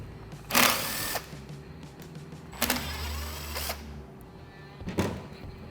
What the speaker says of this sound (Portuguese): Com uma outra chave, uma chave Torx, nós vamos fazer a retirada dos parafusos que prende o solenoide